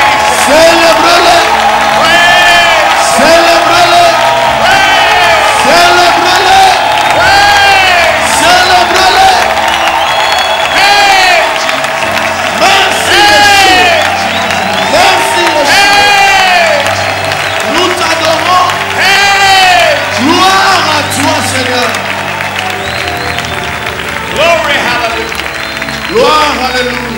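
Church congregation in a loud, sustained roar of cheering, whooping and clapping that fills the space continuously, with voices shouting over the crowd.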